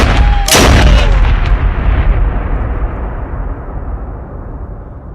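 A single loud, close gunshot with a heavy boom, followed by a long rumbling decay that slowly fades out over several seconds.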